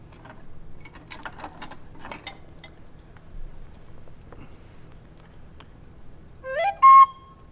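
Tin whistle sounds a short burst of bright, clear notes near the end, after quiet clinking and tapping.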